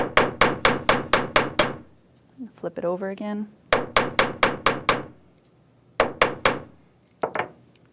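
Sharp metallic hammer taps on jewelry wire loops of an S-hook clasp in quick bursts of about six strikes, pausing for a short spoken remark, then resuming with several more ringing blows close by.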